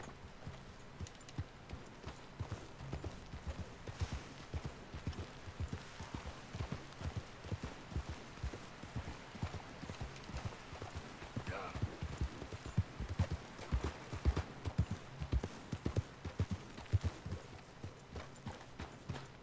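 Horse hooves clip-clop in Red Dead Redemption 2 in a steady, close, rhythmic series of hoofbeats that continues throughout at moderate loudness, with a brief faint tonal sound partway through.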